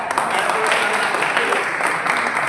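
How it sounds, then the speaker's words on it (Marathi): Dense, steady applause fills a hall at a Republic Day event for disabled people in Sambhajinagar as the audience claps for a guest, with faint voices beneath. "सरांसाठी जोरात टाळ्या"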